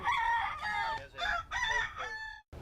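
Rooster crowing among chickens in a cramped yard on the Mexican Riviera, several close, loud crows with clucking in between, carried in bursts across a few seconds.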